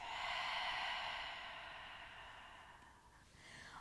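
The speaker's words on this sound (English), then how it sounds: "Deep breath out." A deep exhale during a yoga session, one long, soft breath out that fades gradually, close and alone with no talking.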